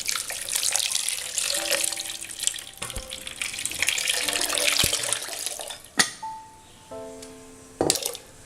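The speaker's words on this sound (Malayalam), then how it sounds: "ഇതിലേക്ക് വെള്ളം ആഡ് ചെയ്യാം." Water is added to strained mango pulp in a vessel for homemade mango juice, with splashy pouring and running water punctuated by a few clinks of utensils against the container, close up and without speech.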